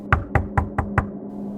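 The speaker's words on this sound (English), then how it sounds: "There was a sudden knock at the front door," Five sharp, evenly spaced knocks land on a front door in quick succession, loud and close, then stop and leave a quiet, faintly humming room.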